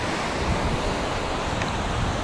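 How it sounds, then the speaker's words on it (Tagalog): Ocean waves wash continuously onto a beach in Malinaw, Albay, a loud, steady roar of surf with wind noise on the microphone and no talk. "Ito yung dagat."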